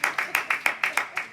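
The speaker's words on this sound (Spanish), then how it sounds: "esto merece un aplauso" Church congregation clapping in unison during a Spanish-language sermon, about eight sharp, evenly spaced claps in a quick steady rhythm, close and clear.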